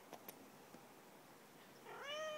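A young cat meows in greeting near the end, a short rising call standing alone after a quiet room with a few faint taps.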